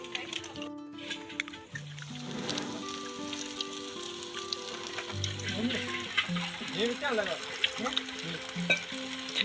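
Bhajiya, Indian gram-flour fritters, sizzle and crackle steadily in hot frying oil, with occasional stirring scrapes. Recorded close and fairly quiet, with village voices and a distant tonal background sound.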